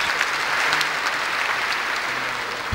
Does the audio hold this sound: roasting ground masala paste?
no